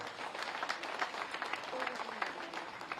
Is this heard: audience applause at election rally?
yes